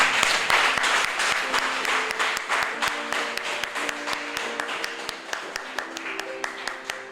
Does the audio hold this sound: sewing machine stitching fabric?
no